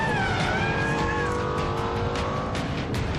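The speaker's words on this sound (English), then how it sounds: "This Nürburgring package has a retuned engine which pumps out 571 horsepower," Lexus LFA with the Nürburgring package and its retuned 571-horsepower engine, heard as a loud, continuous engine note whose pitch sweeps gradually downward over a few seconds, close and alone with no talk.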